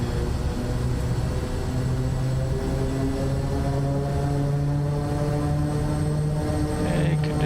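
A Kodiak single-engine propeller plane in a flight simulator drones steadily at high power during its takeoff roll, a loud continuous engine hum with a rising tone and no voices.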